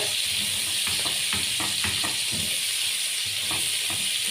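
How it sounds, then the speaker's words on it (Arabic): Liver, gizzards and green pepper fry in a pan with a steady, close sizzle and hiss, while stirring adds soft scraping thumps at irregular intervals throughout. "وهنقلب بقى ايه كل المكونات دي كلها مع بعض كويس جدا"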